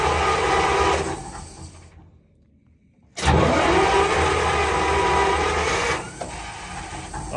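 A Centurion ARV armoured recovery vehicle's big engine cranks, pauses in near silence, then roars to life loudly and settles into a heavy, steady running drone up close.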